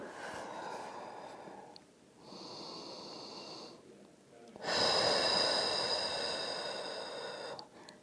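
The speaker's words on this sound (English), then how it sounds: "And come back to that deep diaphragmatic breathing." Deep diaphragmatic breathing during a shoulder external-rotation mobility exercise: slow, audible breaths in three long, steady phases with short pauses between, close and fairly quiet, with no talking.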